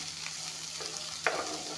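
Beans fry in a pan over low heat with bay leaves, a soft continuous sizzle with a couple of sharper stirring clinks and scrapes, close and fairly quiet.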